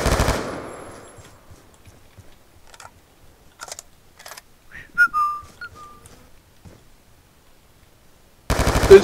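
Gunfire in the video game Black Ops 2 rings out as a handful of sparse, faint shots and clicks against near silence, with a short whistling tone midway and a louder burst at the end.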